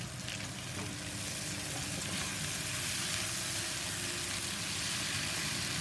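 Cauliflower and potato fry in a pan as they are stirred, producing a loud, continuous sizzle with scraping mixed in throughout.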